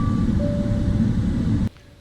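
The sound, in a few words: Boeing 777 EICAS communication message oral alert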